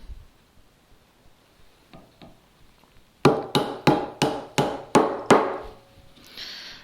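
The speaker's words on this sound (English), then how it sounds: "Right now I just have to chop the mortise. So with every chop I go a little deeper." A mallet drives a chisel into a workbench timber while chopping a mortise. A few faint taps come first, then six loud, evenly spaced whacks ring out close by, with no talking.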